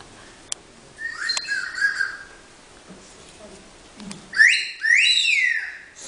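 A hand-held whistle is blown in two shrill, warbling bursts, the second louder and closer, separated by a brief quiet gap.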